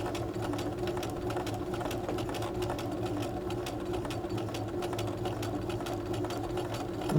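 A sewing machine runs steadily for several seconds, stitching fabric through a rolled hem foot, with a continuous close whirring hum and a fast mechanical needle chatter that stays even throughout.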